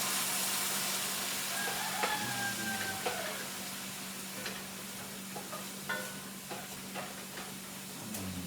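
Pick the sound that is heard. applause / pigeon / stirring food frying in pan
stirring food frying in pan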